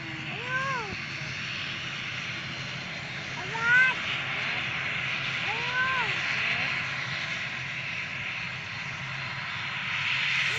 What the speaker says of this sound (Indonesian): Tunggu pesawat.